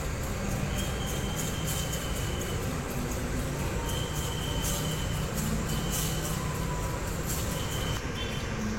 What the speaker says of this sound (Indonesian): Sebentar lagi kereta api Malabarnya juga akan tiba di stasiun Tulungagung.